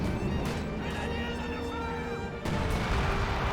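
Close-range barrage from a leIG 18 infantry gun in Company of Heroes 2, heavy continuous rumbling explosions and crashes with a louder burst near the end, dense battle noise under talk.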